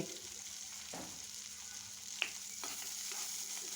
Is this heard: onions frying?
yes